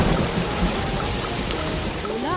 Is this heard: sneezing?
no